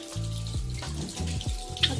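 Tap water runs steadily into a basin, a continuous splashing flow with faint chirps from a pet finch nearby, no voices.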